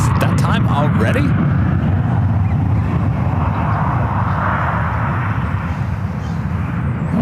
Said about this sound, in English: the Lufthansa Queen also popping up, flight 455, heading back to Frankfurt, the 747-8 Intercontinental